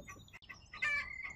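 Farm hens clucking and squawking in a few short, bright calls, close but faint, with a louder burst near the end and no talking.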